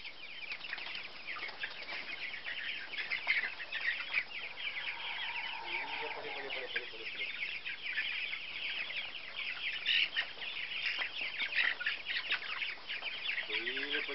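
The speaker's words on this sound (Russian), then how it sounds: "теперь цыплята" Continuous high peeping and chirping from many young birds, steady and busy throughout, with a few louder cheeps standing out.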